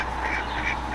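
A duck quacks outdoors near a waterfall, a steady, moderately loud call that runs unbroken for about a second with no voices over it.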